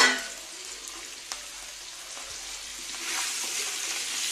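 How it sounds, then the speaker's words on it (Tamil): Potato slices fry in hot oil for a crispy potato varuval, giving a steady, close sizzle with a soft crackle throughout and no voices. "இந்த உருளைக்கிழங்கு நல்லா இந்த எண்ணெயில் வந்து வேகணும்"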